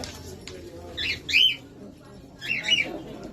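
Caged birds seized from a hoarded apartment in Nice, two short harsh squawks about a second apart over a low room murmur, moderately close.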